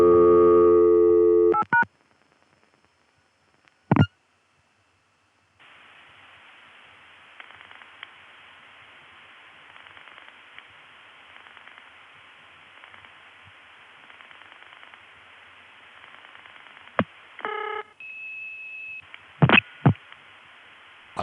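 Early-1980s telephone network tones after a short whistle-off: a loud tone burst, a click, then a long hiss of line noise, followed by short beeps, a steady tone and a couple of clicks.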